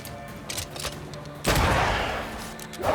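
Rifle fire in the video game Banishers: Ghosts of New Eden: a heavy blast crashes in midway and rolls out into a long, dense rumble, preceded by softer combat clatter and thuds.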